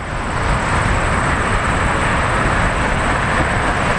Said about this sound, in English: There's another plane coming in